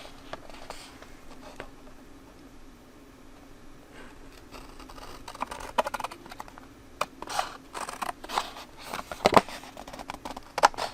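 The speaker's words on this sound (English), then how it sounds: "I was just holding the scissors against the cardstock there." Scissors held against cardstock while working on a pencil tube prototype give off faint, scattered scratchy clicks and rustles. They grow busier and more irregular toward the end, close by, with no talking.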